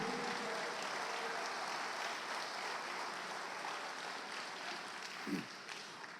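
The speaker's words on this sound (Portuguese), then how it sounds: "Pode aplaudir Jesus" A church congregation at a revival gathering applauds, a steady, dense wash of clapping that fills the space evenly for several seconds, moderately distant and sustained without pause.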